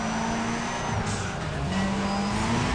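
Racing car engine in Need for Speed ProStreet on a sanctioned drag track, a steady loud sustained drone with rising pitch as it accelerates, faint tire noise mixed in, no talk.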